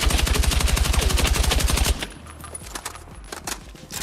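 Rapid automatic gunfire from a weapon recoil test in Battlefield 6, a loud, evenly spaced burst of shots lasting about two seconds, then stopping and leaving quieter rustling and faint clicks.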